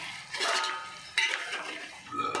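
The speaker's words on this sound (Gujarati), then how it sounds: "હલાવવાનું ચાલુ રાખવું" Egg gravy with oil and onion is stirred in a cooking pan, a spoon scraping and clinking against the metal in three distinct bursts over a faint sizzle, heard up close with no talking.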